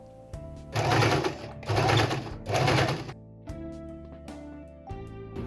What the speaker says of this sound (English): Sew all the way on the crease.